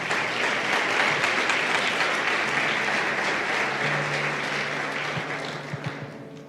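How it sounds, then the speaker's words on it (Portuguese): A church congregation applauds during a Portuguese-language sermon, a dense, steady wash of many hands clapping that fills the whole stretch, with a faint low tonal hum underneath and the clapping thinning slightly near the end. "aplauda ao Senhor Jesus bem forte"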